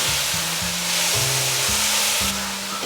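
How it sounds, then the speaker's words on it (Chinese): Carrots tossed with softened mushrooms in a hot pan for a vegan cabbage filling, a steady close sizzle broken by regular scraping strokes of the spatula roughly every half second, with no voices. "现在放入红萝卜，继续翻炒。"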